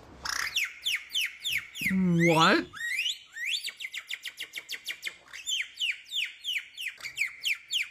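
A rapid series of bright chirps and whistled trills imitating bird calls, with one short spoken word partway through.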